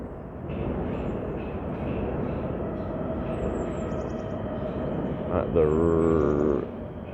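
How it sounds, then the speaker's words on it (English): Prague metro subway train passing near Nusle Bridge in Prague, a steady loud rumble of rolling wheels and motor whine lasting throughout, with a brighter screech or hum swelling near the end; someone talks over it. "There comes another subway or whatever"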